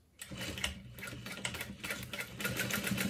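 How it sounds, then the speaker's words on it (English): A sewing machine runs steadily, stitching a zipper seam on a satchel bag in a fast, even mechanical whir with a rapid needle rhythm, close and alone. "I'm just sewing a little bit past that"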